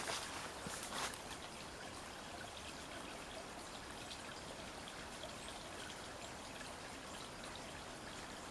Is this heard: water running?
yes